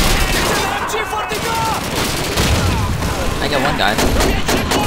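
Dense, continuous gunfire from the video game Call of Duty 2 at City Hall: loud automatic bursts and overlapping shots fill the whole stretch, with someone talking briefly over the battle.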